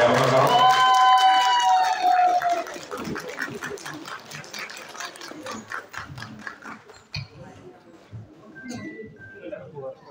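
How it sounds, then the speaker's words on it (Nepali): Audience clapping loudly as the chief guest is welcomed onstage at a national film award ceremony, a dense burst of applause that follows a voice and gradually thins out. "जोरदार तालीका साथमा उहाँलाई अगाडि आमन्त्रण गर्छु।"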